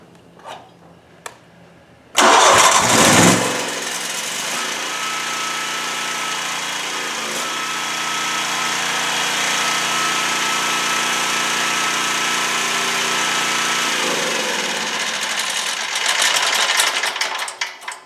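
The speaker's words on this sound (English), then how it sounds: "So I'm going to go ahead and start the generator up." A Champion 15,000 portable generator pull-starts with a sudden roar, then runs with a steady, buzzing high-pitched engine drone for a long stretch.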